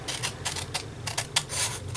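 Scissors snip through scrap paper to cut out a circular mask, a series of short crisp cuts in an irregular rhythm, close and fairly quiet with no talking.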